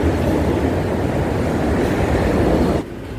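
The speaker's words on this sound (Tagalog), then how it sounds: "ilag lang tayo sa tren ha" A train rumbles past a road crossing, a loud, steady broadband roar that holds for a few seconds and then drops off abruptly.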